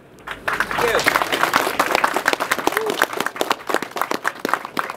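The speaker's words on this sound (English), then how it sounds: "everyone please give a round of applause for the panel" Applause from a crowd for a panel, with steady clapping building into a dense patter alongside some talking, then thinning into scattered claps toward the end.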